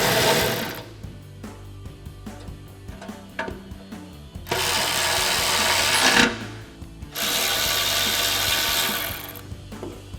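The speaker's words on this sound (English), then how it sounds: "we go ahead and tighten them down using a 4mm Allen bit" Bursts of a power ratchet driving a 4mm Allen bit to tighten the bolts on a Barricade Trail Force HD full-width front bumper for a 2021-2024 Ford Bronco, two long whirring runs separated by quieter clicks and handling noise.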